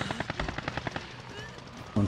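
Rapid automatic gunfire in Call of Duty: Modern Warfare, a fast rattling string of shots with a louder burst at the end.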